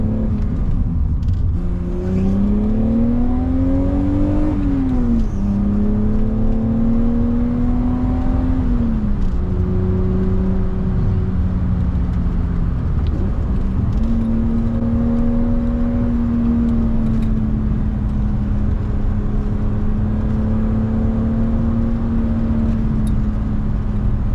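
A 1988 BMW Alpina B3 2.7 E30 driving, its engine droning steadily from inside the cabin with a rising and falling pitch as it revs up, drops between gear changes and settles into a smooth cruise.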